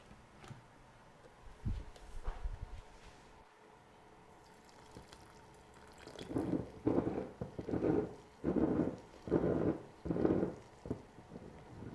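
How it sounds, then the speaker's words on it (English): Warm water being poured onto dried chamomile herb to make tea, heard as a series of short, rhythmic splashing pulses after a quieter stretch of handling noise. "And then we're going to place in the warm water."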